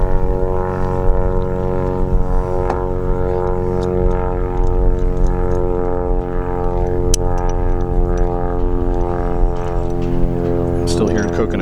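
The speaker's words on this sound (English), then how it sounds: "You can hear the plane in the background." A plane drones steadily in the background near a boat at Coconut Grove, a sustained tonal hum with layered harmonics that holds throughout and swells slightly near the end.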